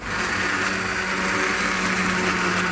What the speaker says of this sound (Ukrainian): Коли овочі приготувались, беремо блендер і готуємо однорідну масу.